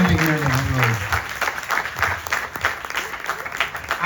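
A crowd at an outdoor Ramayan recital in a park applauds, dense clapping over a voice talking through it at the start, loud and close.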